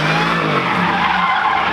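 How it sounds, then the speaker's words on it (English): A car doing a burnout, tires skidding and squealing in a loud, continuous screech over the steady roar of the revving engine, close by and unbroken throughout. "the guys were doing nothing but burnouts"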